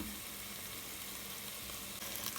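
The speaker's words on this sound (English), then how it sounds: "it'll not bring the heat down in the pan, but it'll help cook your garlic and ginger through" Garlic and ginger paste frying in a hot pan for curried mince keema, a steady dense sizzle that continues evenly throughout with no talking.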